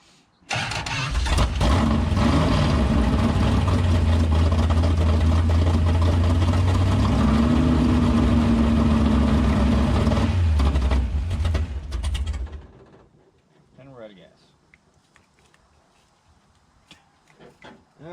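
A Dodge Charger's 505 stroker V8 engine rumbles steadily at idle on first start, loud and close, for about twelve seconds before cutting off, leaving quiet background noise.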